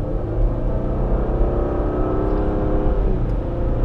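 A 2015 Nissan Murano SL with a CVT accelerating hard, giving a steady, fairly subdued engine drone with rising harmonic tones and a continuous whir from inside the cabin, no one talking.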